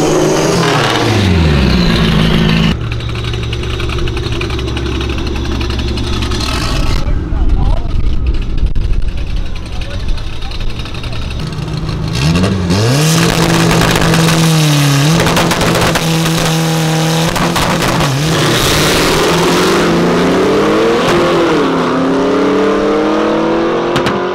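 A Chevrolet Camaro V8 on 22-inch wheels revs hard in repeated rising and falling bursts, loud and close, with a deep, rough engine roar and voices talking over parts of it.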